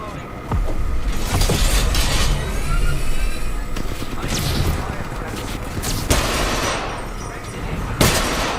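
Machine gun fire in the Apex Legends video game, bursts of rapid shots and booms crowding the mix throughout, loud and close, with sharp impacts near the end.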